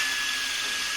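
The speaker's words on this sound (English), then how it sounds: "we're gonna drill in a hole about quarter inch of deep, so our extractor has something to bite on" A power drill bores a hole into a stripped oil drain plug, a steady high-pitched whine held without pause for the full second, loud and close with no talking.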